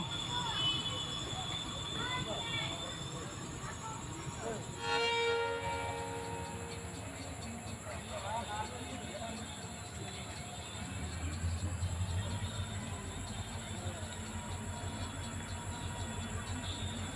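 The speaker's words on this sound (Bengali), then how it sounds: "ট্রেন এখন কুচবিহার রেলওয়ে স্টেশন থেকে ছেড়ে বামনহাটের উদ্দেশ্যে যাচ্ছে সাত কোচ যুক্ত ট্রেন" A seven-coach ICF passenger train departing Cooch Behar station for Bamanhat, with a steady rumble of wheels and carriages, a brief horn-like burst near the middle, and continuous nearby noise.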